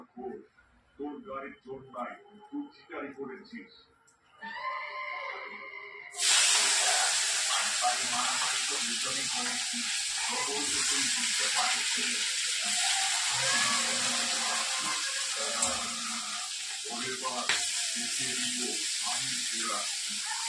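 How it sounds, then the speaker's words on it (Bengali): Fish frying in hot oil gives a loud, steady broadband hiss that starts abruptly partway through and continues to the end, with voices talking over it. "দেখুন এবারে মাছটা ভাজবো।"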